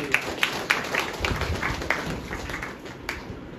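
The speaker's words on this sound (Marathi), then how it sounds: "टाळ्या वाजवून धन्यवाद." An audience claps its hands in thanks, producing a short run of evenly spaced, crisp claps that fade slightly toward the end.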